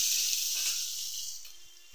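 Eggplant pieces with salt and turmeric fry in hot white oil in a pan, giving a steady, close, bright sizzle that fades slightly toward the end, with no voices.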